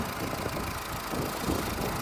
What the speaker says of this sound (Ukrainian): Мотор працює нормально, сухий, ми навіть його не мили.